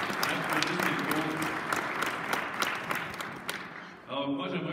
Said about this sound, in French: Oui, applaudissez-vous. Applaudissez-vous.